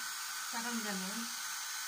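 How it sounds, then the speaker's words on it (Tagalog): An electric blower motor whines over steady background hiss, its pitch swelling and falling for about a second, with a brief spoken word. "Blower daw po ang pinakamabisa."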